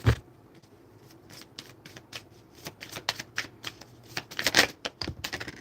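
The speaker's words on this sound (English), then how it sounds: "Let's get some oracle cards here." Oracle cards being shuffled by hand in a quiet room, a steady run of crisp riffling slaps and flutters that grows busier and louder toward the end, with no talking.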